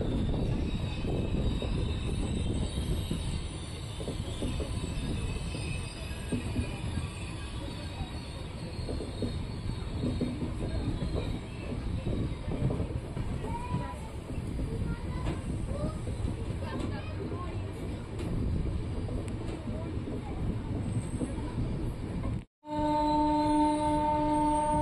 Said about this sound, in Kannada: ನಮ್ಮ ಟ್ರೈನ್ ಈಗ ವಿಕಾರಾಬಾದ್ ಜಂಕ್ಷನ್ ರೈಲ್ವೆ ಸ್ಟೇಷನ್ ಒಳಗೆ ಹೋಗ್ತಿದೆ